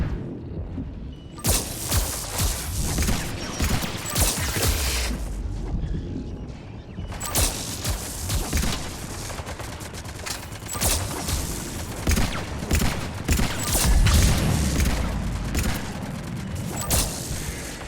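Dense bursts of automatic gunfire and booms from a Mass Effect 3 multiplayer firefight against Geth on the London map, loud and continuous with a short lull, no talk over it.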